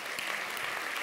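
Short burst of audience applause at a conference talk, dense and even clapping from a crowd that lasts about a second.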